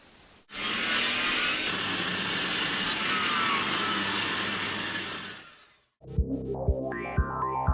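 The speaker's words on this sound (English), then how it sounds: "this is my new Bailey WBS 14 bandsaw" A Bailey WBS 14 woodworking bandsaw roars with a loud, steady broadband whine for about five seconds, then cuts off sharply. A few close knocks and a brief tonal hum follow in the quiet.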